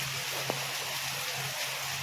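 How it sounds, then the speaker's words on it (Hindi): Dense, steady hiss of heavy rain pours down without pause, with a low hum underneath and one faint tap partway through. "इतनी तेज़ बारिश हो रही है"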